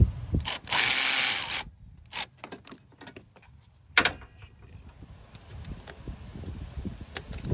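A ratchet loosens the tensioner bolt on the alternator of a 2002–2006 Toyota Camry V6. Close, fast clicking bursts and metallic clunks come first, then quieter intermittent clicks, with no talking.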